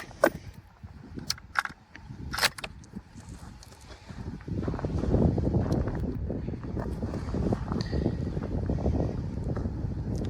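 Gusty wind buffets the microphone at a 605-metre rifle shooting range, rising into a steady low roar after a few seconds of scattered knocks and clicks.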